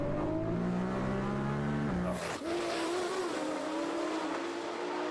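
A Lamborghini Huracan of about 2350 hp and a Nissan GT-R of about 2250 hp run a drag race, engines loud and steadily rising in pitch, a sharp gear shift cutting in midway before the roaring pull continues.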